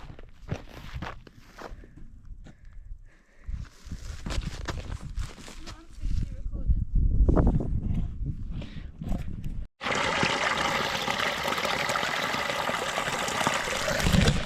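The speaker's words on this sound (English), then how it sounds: "That's the water I'm going to filter from, straight from the moors" Moorland stream water on the Peak District moors, heard first as faint washing beneath talk and footsteps on a walk, then rising into a steady, close, continuous rush of flowing water with no voices.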